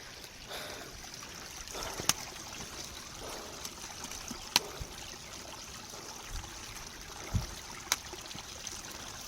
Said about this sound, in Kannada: ಈ ನದಿ ಉಗಮದಿಂದ ಬರ್ತಾ ಇರುವಂಥದ್ದು